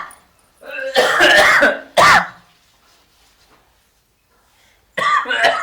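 A few harsh coughs and throat clearing up close, two bursts in quick succession, a long pause, then another cough.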